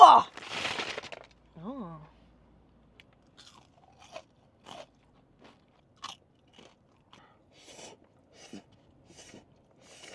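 Crunchy food is bitten and chewed up close, with a loud crisp bite and short voiced sounds at the start, then scattered soft crunches and chews spaced by quiet pauses.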